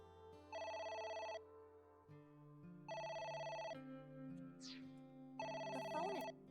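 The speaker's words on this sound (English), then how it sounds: "Oh, It's the phone." A telephone in the video game AI: The Somnium Files rings in three bright electronic bursts separated by pauses, each burst loud and regular, over soft background music with a couple of faint chirping effects.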